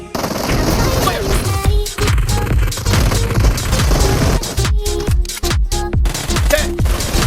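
Loud automatic gunfire rattles through a BGMI team match played on a Moto Edge 40 phone, with rapid bursts, short pauses and a few chimes from game effects between the volleys.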